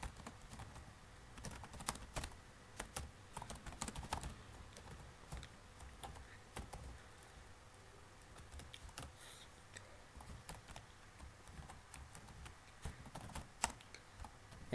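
Quiet, rapid typing on a computer keyboard while C++ code is entered in the Visual Studio Code editor on Windows, with irregular bursts of sharp key clicks and brief pauses throughout.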